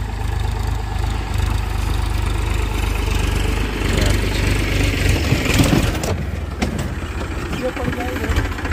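A tractor engine runs steadily after ploughing a muddy farm field, a loud continuous low rumble with a brief rise in intensity midway.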